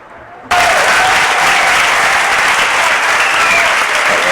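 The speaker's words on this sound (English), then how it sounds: "let's welcome Patrick Rothfuss, please. With a big round of applause for him." Loud, dense audience applause welcoming author Patrick Rothfuss at Espacio Fundación Telefónica, erupting abruptly after a quiet moment and continuing as a sustained, even roar of clapping.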